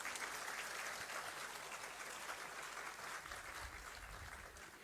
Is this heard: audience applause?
yes